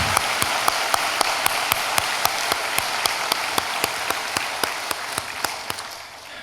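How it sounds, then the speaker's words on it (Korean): A church congregation at a Yeongnak Church service applauds together, sharp claps landing in a steady, evenly spaced rhythm over a dense, continuous wash of applause that fades slightly at the end. "우리 잘하고 오라고 진짜 손뼉을 한번 쳐주겠습니다"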